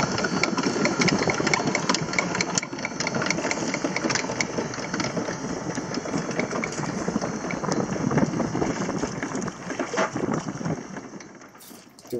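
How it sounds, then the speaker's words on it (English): A sailboat's engine motoring along in light wind, a steady mid-pitched drone running throughout with a constant hum and wind over it, no talking. "The wind is still a little weak, so we motor for a while."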